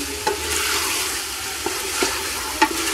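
Sizzling of chicken frying in a pot as water goes in, a continuous loud hiss broken by a few sharp clicks and taps of a utensil.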